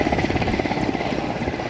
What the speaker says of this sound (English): Travelling by army helicopter